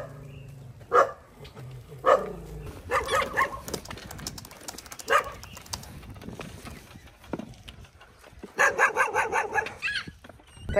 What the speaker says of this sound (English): Watch out for the doggies, guys. Sometimes they're not nice.